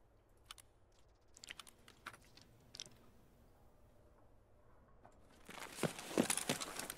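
Computer keyboard keys clicked during an Escape From Tarkov match: scattered sharp taps and short clusters at first, then a denser, louder run of clicks near the end, close up with faint game noise underneath.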